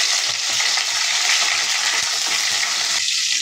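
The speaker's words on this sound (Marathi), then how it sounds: "आपण जिरे टाकणार आहे. कढीपत्ता टाकायचा आहे आपल्याला." Cumin seeds and curry leaves sizzle in about two spoons of hot oil in a pan, a steady, bright, close crackling fry with no voices.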